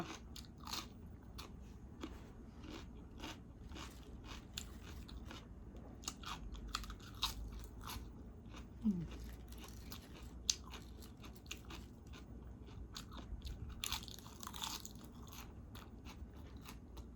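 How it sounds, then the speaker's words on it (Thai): Crunchy fresh salad greens eaten with pork belly, heard as close, quiet bites and steady crisp chewing that repeats through the stretch with no talking. "ผักสลัดกรอบดีดิ คำใหญ่ๆจ้ะ"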